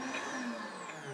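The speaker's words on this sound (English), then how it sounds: "Here's my cooked beetroot, which I'm going to put in here and just pulse 2 or 3 times." A JTC OmniBlend high-speed blender whirs briefly while pulsing cooked beetroot, a short steady motor whine heard close and alone.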